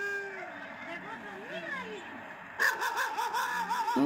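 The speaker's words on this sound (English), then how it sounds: "Oh, the dog's barking." A dog barks and yips in a rural village setting among donkeys, the barks sounding moderately close over a steady outdoor background with other animal calls, while someone talks throughout.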